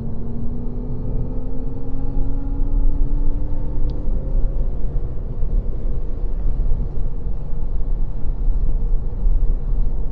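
Alpine A290 electric car accelerating on a race circuit: a steady loud road rumble with rising whine tones sweeping upward, heard from inside the cabin without speech.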